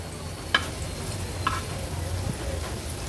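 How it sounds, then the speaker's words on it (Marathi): Bitter gourd slices dropped into hot oil in a pan sizzle continuously, with two sharp clicks from the pan or utensil standing out against the steady frying hiss. "ठेवलेल्या ह्या कारल्यांच्या काचऱ्या आपण तेलावर सोडूया, व्यवस्थित पसरून घ्यायचे आहेत"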